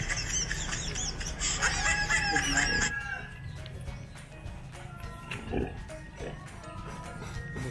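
Low grunts from a pig in mud sound intermittently amid chickens clucking and a rooster crowing nearby, in a busy hacienda farmyard in Pontevedra, Negros Occidental, Philippines.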